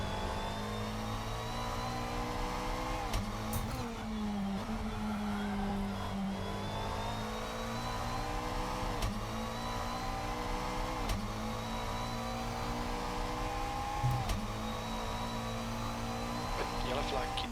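A GT3 race car engine in a racing simulator game at Donington Park revs and pulls continuously, with a steady engine drone and shifting pitch throughout, mixed under speech.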